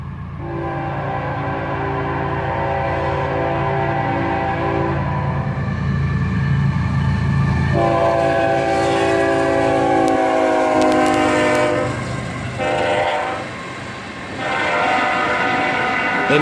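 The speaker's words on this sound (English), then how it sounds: "An empty CSX hopper train, led by an ES44 ACH and an AC44 CW in the old YN2 paint scheme, and he is highballing it north" An empty CSX hopper train led by an ES44AC-H and an AC44CW in the old YN2 paint scheme races north, horn blaring loudly in long sustained blasts over the rumble of passing cars.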